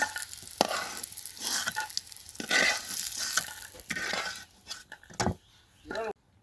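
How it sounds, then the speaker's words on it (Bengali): Fish and dried fish fry in oil in a pan, a bursting sizzle with stirring scrapes and utensil clinks that fades near the end, with a voice speaking over it. "মাছ এবং শুটকি খুব সুন্দর করে ভাজি হয়ে গেছে"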